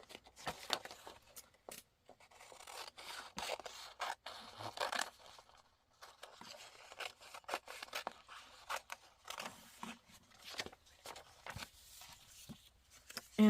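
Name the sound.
scissors cutting a picture out of paper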